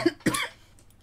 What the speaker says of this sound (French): je me mets à tousser d'un coup d'un seul, juste en respirant